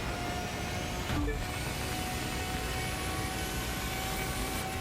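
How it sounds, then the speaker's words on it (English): A Pagani Zonda's V12 engine roars at sustained high speed in the racing game The Crew 2, a dense, steady drone with a brief shift in pitch partway through, alone without talk. "I love the way this car sounds, man. The V12s, the Zonda always sounded great."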